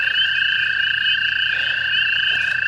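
Hundreds of American toads trill together at night in Ontario, a loud, steady, unbroken chorus of high sustained tones filling the whole stretch with no pause.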